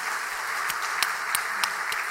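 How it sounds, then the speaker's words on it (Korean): A church congregation claps in an even, continuous patter, with a few sharper individual claps standing out above the steady applause. "박수로 한번 격려하세요"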